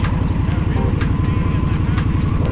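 An Indian Scout Bobber motorcycle engine pulls away under light throttle, giving a steady, close, low thrumming beat with a speaking voice over it.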